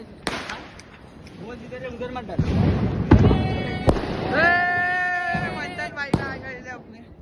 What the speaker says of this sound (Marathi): सभी फटाके फोड़ते आपको भी दिखाते